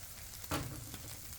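A brief hiss of oil sizzling as tortillas fry on a Blackstone griddle, with a short sharper burst rising over a steady low crackle, close and fairly quiet.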